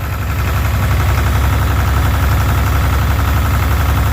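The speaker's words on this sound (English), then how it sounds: "2 different shots of ether to get it to fire. Well, it's running." A cold engine started with ether shots runs steadily at close range, a loud continuous rumble with rapid knocking pulses and no pauses.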